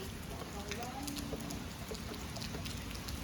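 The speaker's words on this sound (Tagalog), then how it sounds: "Umuulan, oh." Steady rain patters down in a constant wash of noise, with faint voices murmuring underneath.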